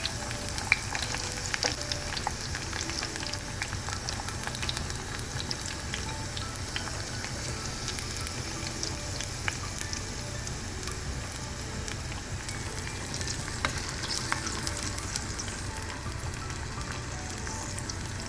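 Chopped small onions and curry leaves fry in hot oil, making a soft, even crackling sizzle that holds steady throughout, with a few faint clicks of a spoon and no talking.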